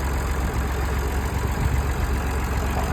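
An old 1964 or 1965 farm tractor engine chugs steadily at work, a loud, continuous low rumble with a knocking throb and no voices.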